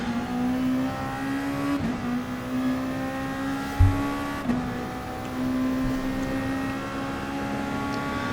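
A Lexus race car engine in GT Sport howls at steady high revs, droning continuously near and loud. Brief shift dips and a couple of soft thumps break the flat tone, and no one talks.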